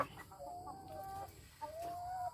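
Laying hens cluck and squawk during poultry vaccination against fowl cholera, a few close, fairly faint drawn-out calls over a low background hum.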